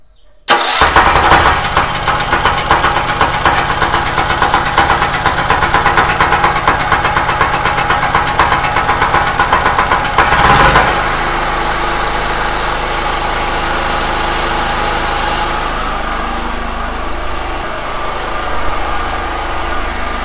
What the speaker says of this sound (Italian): Adesso con due dita, girando la chiave, accendiamo il gruppo elettrogeno.